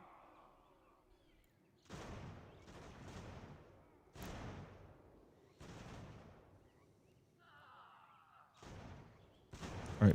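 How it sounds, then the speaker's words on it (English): Musket gunfire in the Ultimate General: American Revolution strategy game, several loud crackling volleys in separate bursts with quieter background sound between them. "Someone's shooting at someone."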